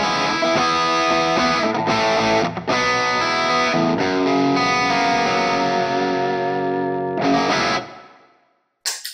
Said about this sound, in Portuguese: Tá aqui o som com Demoiselle Chorus em True Bypass.